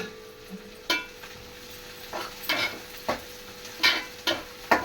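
Onions and small tomato pieces fry in a pan with a soft, continuous sizzle, broken by several sharp stirring scrapes at irregular intervals.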